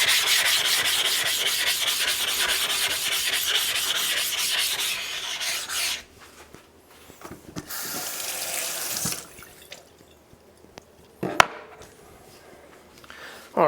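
A Gunma Komaki Nakatoishi Japanese natural whetstone is rubbed to raise slurry, with a steady, close scraping rasp for about six seconds, then shorter intermittent strokes and pauses, one sharp knock near the end.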